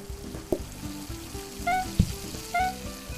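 Food sizzles on a kitchen station in the cooking game Plate Up, a steady frying hiss with soft clanks and short chiming pings repeating every second or so.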